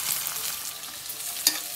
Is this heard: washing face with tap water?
no